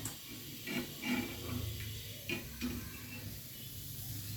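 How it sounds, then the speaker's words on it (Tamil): Raw rice flour batter for achu murukku is stirred with soft, intermittent scraping strokes over a faint background sizzle, close and quiet. "மாவை கொஞ்சம் கிண்டி விட்டுக்கிறேன்"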